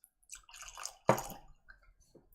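Whisky poured into a viscometer gives short liquid trickles and drips, quiet and close, with a louder splashing burst midway and a sharp final splash, separated by near silence.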